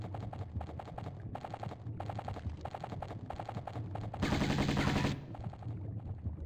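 Enemy gunfire in Tomb Raider 1 Remastered, in the Atlantis finale: steady rapid automatic bursts rattling on throughout, with a denser, louder volley near the end before the bursts resume.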